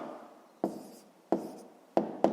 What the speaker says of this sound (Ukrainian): Ну що ж, давайте тоді запишемо.